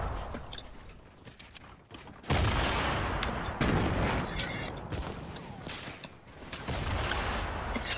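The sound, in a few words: C4 explosions in the video game Fortnite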